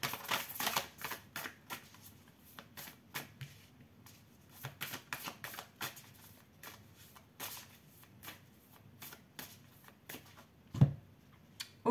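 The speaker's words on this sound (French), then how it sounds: "Je vais mélanger les cartes." Tarot cards are shuffled by hand, in repeated short bursts of slapping and riffling paper close by, irregular clusters spread across twelve seconds with a louder knock near the end.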